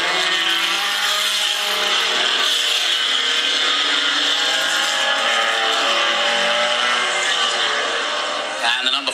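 The number 40 race car coming down a hill during a race: a continuous, loud engine drone that holds steady and fades slightly at the end, with a voice talking over it.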